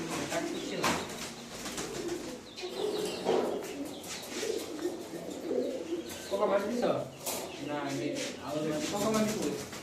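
Birds in a newly built mini-zoo aviary coo and flutter restlessly, with soft wingbeats and calls mixed under steady nearby conversation.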